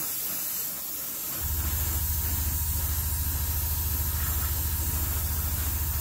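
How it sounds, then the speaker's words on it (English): An airbrush lightly spraying thinned weathering paint over a 1/24 scale German D8506 Mod 1937 model: a steady close hiss of air and paint, joined partway through by a constant low compressor hum. "basically we're just going to lightly spray everywhere."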